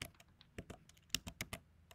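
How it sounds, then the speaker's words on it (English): Rapid clicking keystrokes on a Mac laptop keyboard, a short irregular burst of close, light taps with no talking. "I'm using the keyboard on the Mac. Oh no, piss bed. That's why you hear like the clickety clacks."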